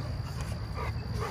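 A large dog whimpers softly and steadily nearby, a thin continuous whine over a low background rumble.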